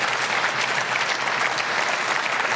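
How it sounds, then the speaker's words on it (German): A studio audience at a sports television show applauds the footballer Cacau, a dense, even wash of clapping that holds at full strength for the whole stretch. "nach dem Applaus für Kakao."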